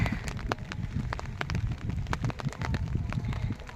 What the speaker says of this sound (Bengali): আজ বৃষ্টি হচ্ছে খুব এখানে কখনো কখনো বৃষ্টি বেড়ে যাচ্ছে